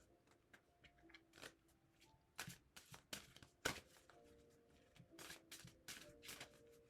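Tarot cards are shuffled up close in a quiet room, with soft riffling bursts and sharp snaps coming at uneven intervals.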